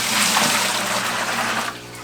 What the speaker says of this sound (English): But first we need water in the bucket, so let's do that.